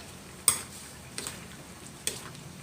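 A spoon scrapes and clinks against a pot of Thai bee-mushroom curry seasoned with fermented fish sauce, three short sharp knocks spaced apart over a quiet, faint background.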